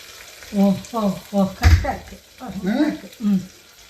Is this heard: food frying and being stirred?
yes